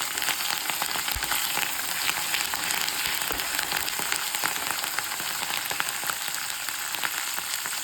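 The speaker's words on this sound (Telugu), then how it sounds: "వేగుతున్నాయి కదా, ఇప్పుడు దీంట్లోకి మనం కరివేపాకు వేసుకుందాం" Curry leaves frying in hot oil in a pan for lemon rice, giving a steady close sizzle and crackle with a few louder pops near the start, no voices.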